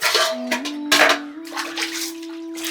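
Dishes being washed in water, with splashing and clattering in short bursts close by, while a steady tone hums underneath.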